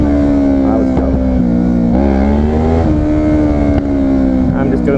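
A motorcycle engine droning loudly and continuously at close range as the rider does small wheelies, pitch rising and dipping with each throttle change.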